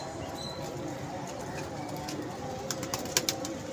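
Pigeons at a pigeon club on a rooftop coo and flutter amid steady outdoor background noise, with a few sharp wing claps or taps toward the end.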